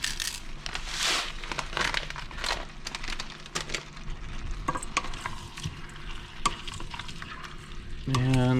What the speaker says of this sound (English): that's going to help to start to cook these tomatoes down